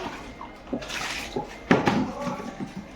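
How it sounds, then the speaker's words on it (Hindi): Tap water runs into a plastic mop bucket in a home kitchen, a steady rushing splash with a few louder surges and gurgles, close by and alone. "ये है मेरी पोछे की बकेट। इसमें पानी भर लूँ जल्दी से"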